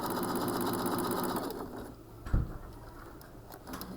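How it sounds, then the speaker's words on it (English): A sewing machine runs steadily along the edge of scrunchie fabric, a close, even whirring hum that slows and stops halfway, followed by faint handling clicks. "all we're going to do is just sew right along the edge of it"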